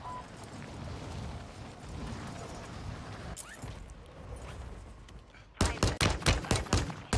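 Pistol gunfire in a video game: a quick run of sharp, loud shots fires in a rapid cluster near the end, following a stretch of busy, muffled game ambience.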